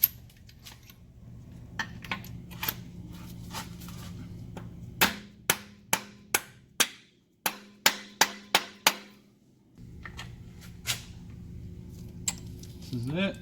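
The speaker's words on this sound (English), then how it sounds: "how we're putting the bushing in, how we're beating that in" Sharp metal hammer blows drive a bushing into a Porsche 911 engine during an IMS repair, a scattered run of loud close strikes, quickening into a rapid cluster midway, over a low background hum.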